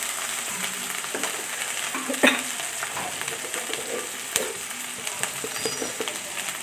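Chili paste sizzles as it hits hot oil in a pan for an egg curry, a continuous crackle with occasional sharp scrapes and taps of stirring, close up and without voices.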